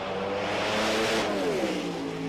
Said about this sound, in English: take a look at these front-engine cars go to work